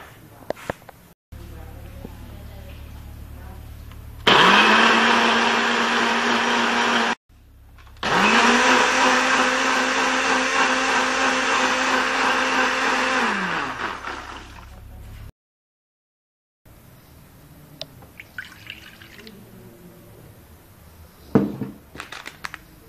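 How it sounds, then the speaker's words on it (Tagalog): A blender whirs loudly in two long bursts, its motor pitch rising and falling, with brief pauses and a quiet voice and clatter afterward. "Ayan, i-blender natin."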